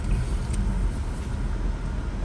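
City road traffic in Cebu City on a busy day forms a steady, close low rumble of passing vehicles, engines droning continuously without any clear talk.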